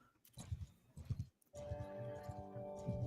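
Cavalry horses in Mount & Blade Bannerlord pound along in a steady clip-clop of hooves, a brief pause partway through before a fuller, continuous galloping rumble takes over.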